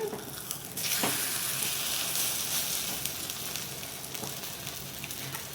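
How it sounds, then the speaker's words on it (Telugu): Suji bun dosa batter frying in a covered pan, a steady close hiss of sizzling oil with a few soft clicks, starting quieter and swelling to a constant broadband crackle that holds throughout. "ఇలా మళ్ళీ మూత పెట్టుకొని ఫ్రై చేసుకోవాలి"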